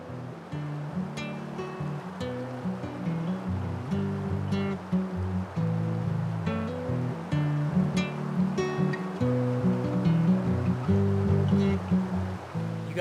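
A cold, clear river flows beside a camp in British Columbia, continuous rushing water in a broad steady roar with small splashes and gurgles throughout, no voices.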